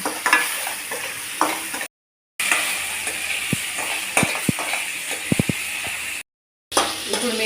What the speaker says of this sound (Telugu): కొద్దిగా వేసుకొని ఫ్రై చేసుకోవాలి